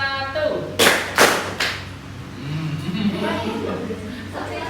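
A class claps in unison on cue, two or three sharp loud claps close together near the start, followed by quieter room noise and murmuring.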